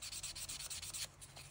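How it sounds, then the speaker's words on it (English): A sanding sponge rubs back and forth in quick, even strokes, a soft rhythmic scratchy hiss that is close and quiet, then slows and fades toward the end. "I like to add water when I can when I'm sanding."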